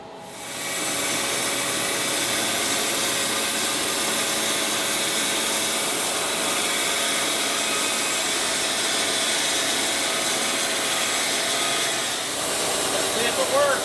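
A Wood-Mizer LT40 sawmill runs its blade through a damaged walnut log, giving a loud, steady, broadband roar that holds nearly unbroken throughout and dips briefly near the end.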